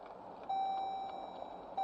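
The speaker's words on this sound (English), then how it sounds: "Sorry about the beeping." An electronic beep tone sounds twice, a long steady beep followed after a gap by a second one starting near the end, over low background rumble inside a delivery vehicle.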